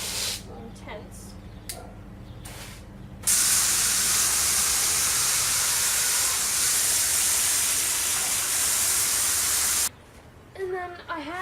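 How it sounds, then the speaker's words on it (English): A hose sprays water onto a western saddle cinch to rinse it, a loud, steady, close hiss running for several seconds before cutting off, with talk just before and after. "But first I'm just going to give them a good rinse"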